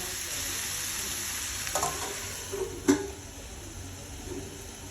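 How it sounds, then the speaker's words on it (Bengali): Mixed vegetables for a Bengali pach mesali shukto fry in a covered pan, giving a steady, soft sizzle with a couple of brief clinks and bumps partway through. "তো এটাকে আমি ঢাকা দিয়ে ভাজবো।"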